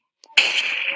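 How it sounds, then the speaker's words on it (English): Gunfire in the video game Krunker, a short sharp burst of shots going off behind the player, close and loud after a brief quiet lead-in. "is somebody shooting behind me, bro?"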